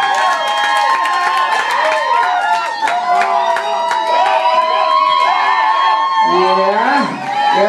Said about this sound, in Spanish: Aplausos aquí para Distrito Federal.